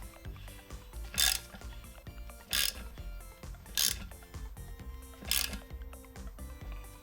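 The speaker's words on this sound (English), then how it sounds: "we'll go ahead and just put it on here and just tighten it down" Several ratcheting bursts from an 11mm deep socket ratchet tightening a TPMS sensor nut on a tire valve, heard in four close, loud spurts with mechanical clicks between, no talking.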